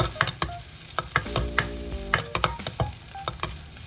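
Garlic stir-fries in oil in a pan with quick, repeated scraping strokes of a spatula over a light sizzle, near and clear.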